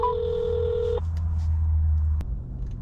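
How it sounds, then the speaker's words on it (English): Phone call placed from a delivery driver's vehicle: a steady dial tone with a keypad beep cuts off after a second, followed by a low droning hum with a faint click near the end. "Let's try giving him a call."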